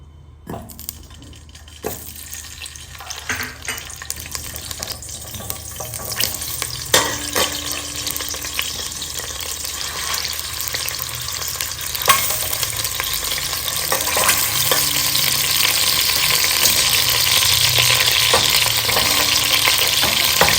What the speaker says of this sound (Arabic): هلأ رح نقليهم بشوية زيت